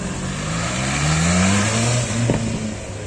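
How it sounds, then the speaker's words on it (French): A Toyota GT86 accelerating off the start line at a car rally, its engine note climbing steadily and loudly over a couple of seconds before a quick gear change, heard near and alone. "Départ de la GT86."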